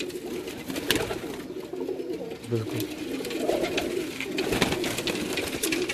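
Teddy pigeons cooing in low, soft repeated calls at a home loft, heard under ongoing nearby conversation.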